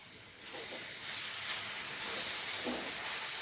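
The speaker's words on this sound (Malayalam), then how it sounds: "നമ്മൾ അരച്ചെടുത്തിരുന്ന അരപ്പ് ഇതിലേക്ക് ഇട്ട് കൊടുക്കാം." Ground masala paste for a prawn and mango curry hits a hot pan and gives off a faint, steady hiss with a few brief spits, close and quiet, with no talking.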